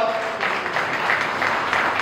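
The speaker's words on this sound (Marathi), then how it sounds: "जोरात टाळ्या वाजवून स्वागत करावं." An audience at a religious commemoration gathering in Badlapur claps to welcome a guest, producing a brief, moderately loud patter of applause with a faint voice underneath.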